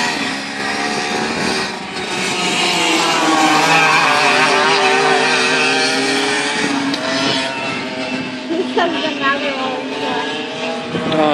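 Go-karts racing around a corner at an outdoor track, their engines droning and whining steadily at moderate distance, with rising and falling pitch as the karts pass, while people talk over the engine noise.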